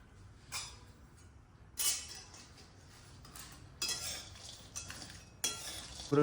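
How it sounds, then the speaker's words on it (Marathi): Dry dates (kharik) roast in ghee in a pan for methi ladoo: quiet intermittent bursts of stirring and spatula scraping over a faint background sizzle. "आता छान खारीक भाजून घेणार आहे"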